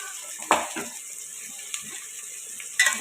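Boiled prawns fry in oil for prawn pulao: a constant sizzling hiss with a few clattering stir strokes at the start and near the end.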